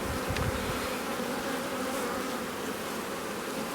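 Honey bees crawl over hive frames during an artificial swarm, giving a steady, dense buzzing drone at close range that holds at an even level throughout with no voices.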